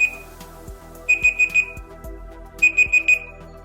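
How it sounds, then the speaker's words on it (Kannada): A phone timer set for ten seconds beeps in two quick bursts of four sharp electronic tones, separated by a short pause, clear and close over a faint background. "ಈಗ ನೋಡಿ 10 ಸೆಕೆಂಡ್ಸ್ ಆದ್ಮೇಲೆ ಆಟೋಮೆಟಿಕಲಿ ಬೀಪ್ ಸೌಂಡ್ ಬರುತ್ತೆ."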